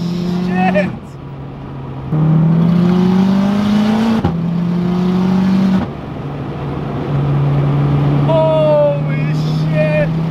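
Stage 4 big-turbo VW MK6 Golf R revving hard and accelerating in fifth gear, its engine pitch climbing through long loud pulls with brief breaks and shifts, close and steady, with excited speech over the roar.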